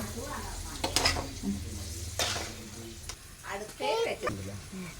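Raisins frying in oil for biryani give a soft sizzle with spoon stirring and pan clinks, heard beneath a person talking throughout.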